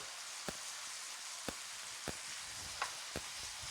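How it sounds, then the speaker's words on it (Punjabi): Spices, red chili powder and dried fruit roasting in a pan for paneer malai kofta, a soft steady sizzle broken by several sharp stirring scrapes and clicks. "ਤੇ ਇਹਨਾਂ ਨੂੰ ਹੁਣ ਆਪਾਂ ਭੁੰਨ ਲਓ ਤੁਹਾਡਾ ਡਰਾਈ ਫਰੂਟ ਵੀ ਵਿੱਚ ਭੁੱਜ ਜਾਊਗਾ"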